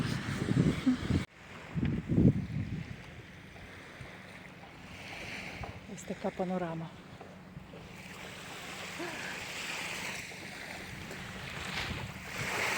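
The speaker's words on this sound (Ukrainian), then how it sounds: "хвиля, яка висотою 8 сантиметрів" Calm Mediterranean sea in Italy in October, with tiny waves only centimetres high washing onto the beach. A soft, steady wash sits under gusty wind noise on the microphone, and a voice speaks briefly near the middle.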